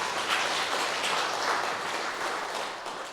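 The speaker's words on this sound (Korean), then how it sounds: "다시 하나님께 영광의 박수 올려드리겠습니다" A church congregation applauding during a Sunday service, a steady wash of many hands clapping together that holds for several seconds and then begins to fade.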